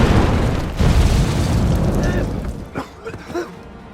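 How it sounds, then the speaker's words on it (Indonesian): A gas explosion in a mine bursts as a loud, deep rumbling blast that rolls on for a few seconds, then decays into scattered thuds and debris sounds. "ledakan pun terjadi."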